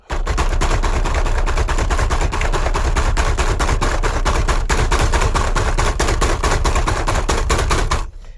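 A steering wheel on a Ford Escort being worked loose from its steering column makes loud, rapid, evenly spaced knocks and rattles for about eight seconds before stopping abruptly.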